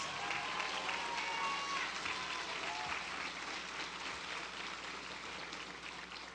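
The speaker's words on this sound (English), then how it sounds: "Let's give all of them a round of applause." Sustained audience applause for faculty and staff standing to be recognized at a 2018 graduation ceremony, a dense, steady wash of many hands clapping across a large hall with faint crowd noise underneath.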